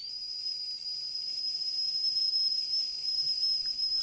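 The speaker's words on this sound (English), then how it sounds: "The kettle whistled." A kettle whistles in a steady, sustained high-pitched tone with no talk, holding constant for several seconds over faint background hiss.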